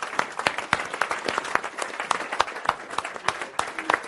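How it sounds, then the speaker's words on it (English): An audience claps steadily throughout, a dense, lively round of applause filling the room at a fairly even level. "Big round of applause."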